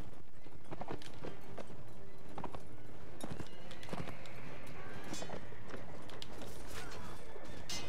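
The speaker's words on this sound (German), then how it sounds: "schaut euch diese Pferdchen mal an" Horses clip-clopping in the video game Mount & Blade Warband, a run of sharp hoof strikes over a busy game soundscape, fairly loud and irregular as the animals move about.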